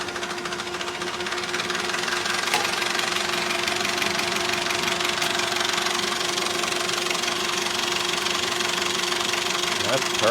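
A Perkins diesel engine idles steadily on a Hyster roller compactor, giving a close, even knocking hum that runs through the whole clip. People talk over it.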